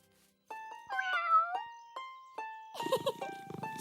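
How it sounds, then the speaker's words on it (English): A cartoon kitten meows several times in short, bright, high-pitched calls, some rising and falling, close and clear against near silence, followed by a voice at the end. "Meet my kitten."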